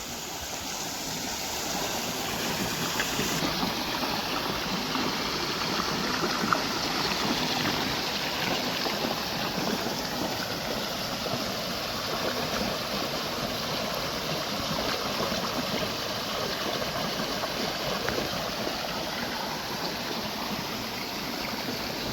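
A farm water pump motor runs steadily while irrigation water pours and gushes into a field planted with soybeans. The rushing flow stays loud and continuous throughout, with no voices.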